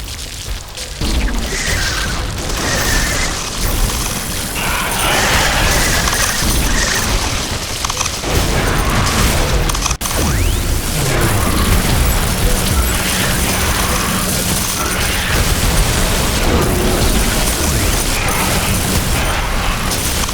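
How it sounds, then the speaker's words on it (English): Explosions and crashing debris from buildings being destroyed during a base attack in the video game The Riftbreaker, a dense, loud and continuous barrage of booms and mechanical rumble that does not let up. "A building has been destroyed."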